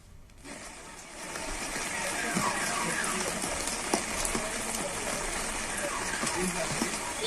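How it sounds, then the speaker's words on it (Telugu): Heavy, continuous rain pouring over Vijayawada streets during a downpour, a dense roaring wash that swells after a quiet first second and stays loud and steady, with some traffic rumble underneath. "విజయవాడలో భారీ వర్షం కురుస్తోంది"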